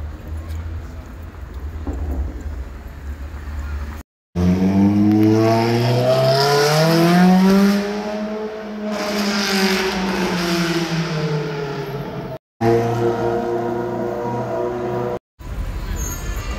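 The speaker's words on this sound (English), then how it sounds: "Late night spot, McLaren 720S and a Porsche 911. And then a Lamborghini Huracan." Sports cars on a city street at night, a McLaren 720S, a Porsche 911 and a Lamborghini Huracan, rev and pass close by one after another in Toronto, with a loud rising engine sweep in the middle and short breaks between passes.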